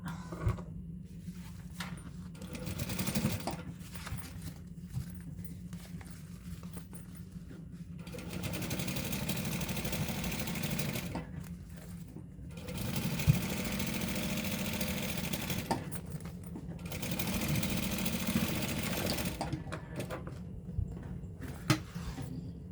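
Sewing machine running a basting stitch on fabric, close steady motor hum and needle clatter in three long bursts separated by brief pauses.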